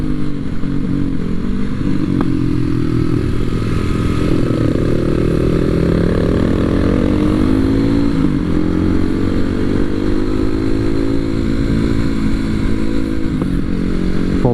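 A motorcycle rides through mountain curves descending Khao Khiao toward the Pak Chong gate, its engine droning loud and steady, close up, with pitch rising and falling through gear changes and wind rush.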